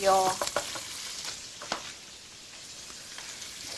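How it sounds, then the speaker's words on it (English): Prawns are stir-fried in a hot pan, with a burst of sizzling and spatula scrapes at first, then a softer crackle that fades to a quiet hiss. "Prawn cooks very quickly, so I think all you need is just a few stirs and it will be cooked already."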